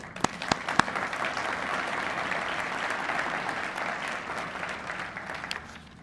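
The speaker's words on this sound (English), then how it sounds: "Let's give them an applause" Steady applause from a sizable crowd at a mayor's State of the City address, a few sharp claps standing out at the start, holding evenly before tapering off.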